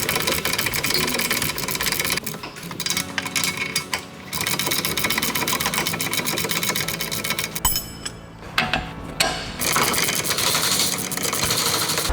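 Bolt being tightened on a shock absorber mount during a strut replacement on a Hyundai-Kia car, a continuous whirring, rattling drive of a power tool running close and loud for most of the span with brief pauses.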